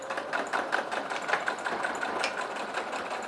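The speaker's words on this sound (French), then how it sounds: "C'est parti pour la couture." Sewing machine stitching a seam about 1 cm from the edge along one side of a fabric shoulder bag, a steady close whirring hum with a fast stitching rhythm running continuously throughout.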